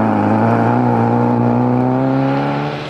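A Peugeot 205 rally car in the 1994 British Rally Championship takes a tight line through a corner, its engine a loud, close, sustained drone whose pitch climbs steadily and then fades slightly at the end.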